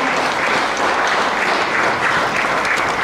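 Steady, dense applause from a room full of people at the Premio Murazzi 2016 award ceremony in Italy, continuing evenly throughout with no voices above it.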